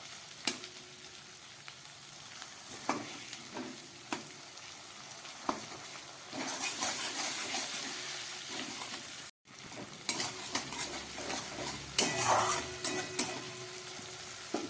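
Spices and crushed black pepper sautéing in a pan for a vegetarian jackfruit curry, a steady sizzle with intermittent scraping and stirring clatter, rising louder partway through after a brief pause.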